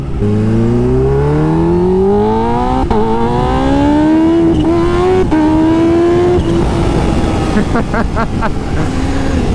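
Kawasaki H2 motorcycle with a Vandemon titanium exhaust and flashed ECU, close and loud as it accelerates hard through several rising gears, each upshift marked by a brief dip before the pitch climbs again over steady wind roar.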